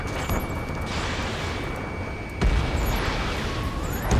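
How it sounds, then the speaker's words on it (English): Ace Combat 7 battle sounds over a city under martial law: a continuous rumbling din of gunfire, distant booms and a sudden heavier blast partway through, with a steady tone and a brief falling whine. "Gunfire and a roar of jets echoing through the streets."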